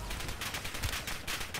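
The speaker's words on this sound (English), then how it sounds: "Taking effective fire." Dense, continuous gunfire from Call of Duty, rapid overlapping bursts of shots filling the whole moment with a loud, busy battlefield din and no voices.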